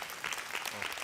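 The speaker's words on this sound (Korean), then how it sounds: "우리 이강미 나올 때 우리 박수로 우리 환영하도록 하겠습니다" Brief burst of steady applause from a church youth group congregation in Gunsan, welcoming a graduating student to the front, dense and continuous with no talking over it.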